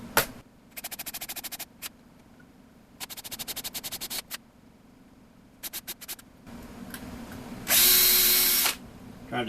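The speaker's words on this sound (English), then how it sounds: "Trying to drill just through the aluminum, not go too deep into the wood" Short bursts of a drill whirring through an aluminum box over wood, stopping and restarting several times, ending with a louder, harsher grinding burst near the end.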